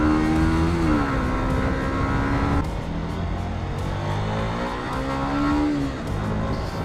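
A motorcycle engine revs up and eases off in two surges in winter riding, its pitch rising and falling, heard close with steady road noise underneath.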